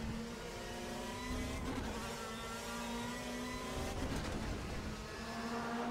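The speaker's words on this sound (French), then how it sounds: "Regardez l'aisance avec laquelle il est sur les freins au bout de cette ligne droite." A touring race car at Bathurst heard from the onboard camera, braking at the end of a straight, with a steady engine drone whose pitch glides and shifts as the car slows, accompanied by faint road noise.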